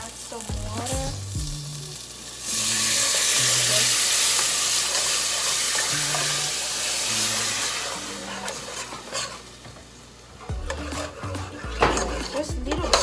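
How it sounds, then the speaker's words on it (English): Loud, steady sizzle as water hits a hot pan of frying jollof rice, rising sharply and holding for several seconds before easing, with clattering utensils and pot sounds around it. "Add some water."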